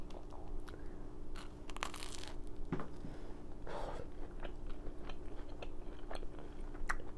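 Close, crunchy chewing and biting of eggplant caponata made with onions, peppers, olives, capers and vinegar, heard as a steady run of moist crunches with no talking.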